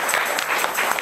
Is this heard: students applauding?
yes